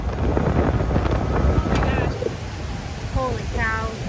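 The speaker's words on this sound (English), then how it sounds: "It is so windy outside." Strong wind buffets the microphone outdoors at a drag racing track on a cloudy day, with a steady roar and rumble throughout and faint chirping sounds toward the end.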